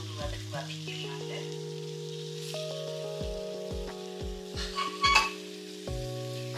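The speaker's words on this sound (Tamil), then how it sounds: "மாவு அப்படியே வெளியே போட்டு ஒரு வதக்கு வதக்கிடலாங்க" Dough sautéing in a pan for savoury kozhukattai, a soft sizzling hiss with occasional stirring scrapes, partly masked by steady tonal background music.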